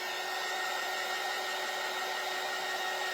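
A hair dryer blowing on a freshly painted craft snowman nose, a steady even whir with a constant high hiss, close and unbroken, with no talk.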